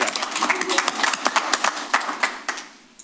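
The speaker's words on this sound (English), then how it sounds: "We can applaud that" A small audience at a city council regular meeting gives a short round of applause: sharp, distinct hand claps at an uneven pace that gradually fade away, with some talk alongside.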